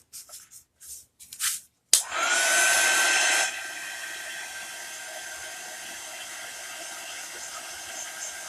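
After a few soft handling rustles, a hair dryer switches on abruptly and blows steadily close by to dry chalk paint on a craft project, loud at first then settling to a lower, constant whir.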